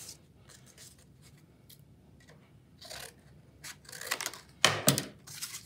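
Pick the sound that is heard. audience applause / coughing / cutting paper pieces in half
cutting paper pieces in half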